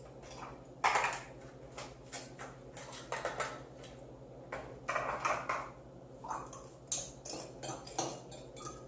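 Stirring a sorrel cocktail made with Myers's dark rum over ice in a glass, producing scattered light clinks and taps of ice and spoon at an irregular pace, close and fairly quiet.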